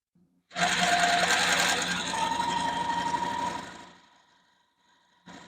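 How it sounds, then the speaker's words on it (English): A sewing machine stitches fabric for a Halloween trick-or-treat bag, running in one loud continuous burst of a few seconds, then stopping, with a brief restart at the end. "I can't go much less because my machine won't pull it through evenly."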